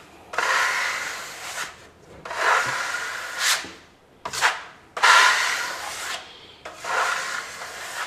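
Filler plaster being sanded by hand on a blistered wall repair, a close, dry scraping rub in five or six distinct strokes separated by short pauses, with no talking.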